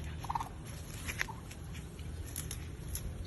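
A turkey gives a short, bubbling gobble close by, then a second, fainter call follows over quiet outdoor background noise.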